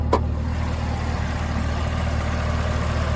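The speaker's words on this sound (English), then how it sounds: "That's that supercharged LT4, the V8." The supercharged LT4 V8 of a 2021 Chevy Camaro ZL1 idles with a deep, steady rumble, close and even throughout, with a brief faint click near the start and no talking.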